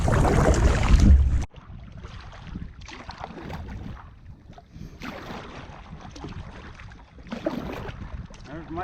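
A boat travels across a lake off Drummond Island, with a loud gust of wind buffeting the microphone at first, then a steady rumble of motion and rushing water that surges again near the end.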